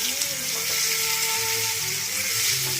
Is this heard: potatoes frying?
yes